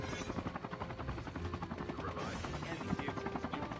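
In a battle royale shooting game, a helicopter's rapid rotor chop pulses under bursts of gunfire, fairly quiet and steady, with a couple of louder impacts near the end.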